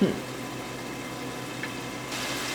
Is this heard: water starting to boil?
yes